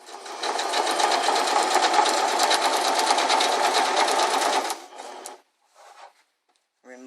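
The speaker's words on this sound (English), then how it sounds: "And pull from behind and sew." A sewing machine stitches stretched elastic down onto fabric in one loud, steady run of rapid needle strokes for about five seconds. It then stops, and a few faint clicks and handling noises follow.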